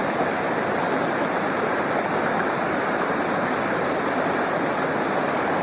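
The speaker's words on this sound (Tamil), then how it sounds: "காட்டுக்குள்ளே என்ட்ரி ஆன உடனே எவ்வளோ அழகான ஒரு அருவி ஒன்று கொட்டிகிட்டு இருக்குது பாருங்கள்" A forest waterfall at Agasthyarkoodam pours in a steady, dense roar of rushing water, loud and continuous and close by, with no voices over it.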